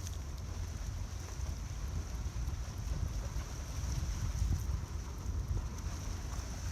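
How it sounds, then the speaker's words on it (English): Steady, rushing wind on the open sea buffets the microphone, a continuous low roar with a faint high whine and no talking. "It's quite windy out here."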